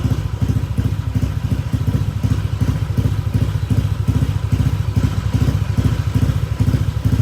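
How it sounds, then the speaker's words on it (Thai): Motorcycle with ECU-tuned fuel map, exhaust popping and crackling in a steady rapid stream of thumps over a low idle, close and loud throughout. "อันนี้คือท่อยิงนะครับ"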